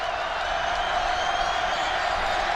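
Football stadium crowd at a college game between Utah and Wyoming, a dense, steady roar of many voices filling the whole span at a constant level, with no single voice standing out.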